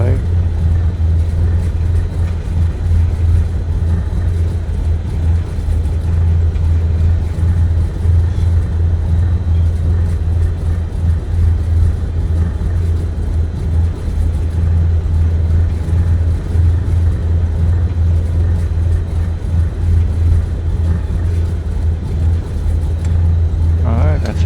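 Steady, loud drone of a Cessna 172 piston engine at run-up power in Microsoft Flight Simulator, holding an even low hum for the whole stretch with no pauses.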